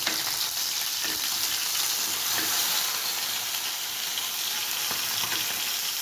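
Fish frying in oil in a pan on a village clay stove, a steady broadband sizzle that continues without a break, with faint crackles and pops scattered through it and no voices.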